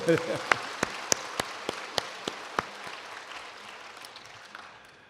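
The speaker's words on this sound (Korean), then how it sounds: "박수하고 싶어요." A church congregation claps during a Sunday service at Chuncheon Central Church: a string of sharp, evenly spaced hand claps rings out over a soft patter, thinning and fading away, with a brief voice at the very start.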